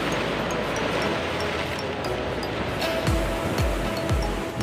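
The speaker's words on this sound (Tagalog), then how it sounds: "Lakas ng alon oh." Strong ocean surf breaks along a beach in Pangasinan, a steady roar of churning water with a few heavier wave crashes swelling near the end, loud and continuous with no talk over it.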